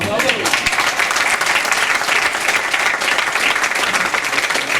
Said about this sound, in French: Laura, sous vos applaudissements.